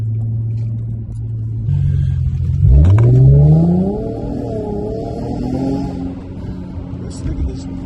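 A BMW at a street car meet revs loudly and accelerates, its engine note sweeping sharply upward and holding a strong rising roar before easing off, close by.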